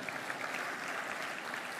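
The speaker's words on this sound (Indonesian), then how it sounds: "Yang percaya kasih tepuk tangan bagi Tuhan kita." A church congregation applauds, a soft, distant wash of many hands clapping steadily for under two seconds.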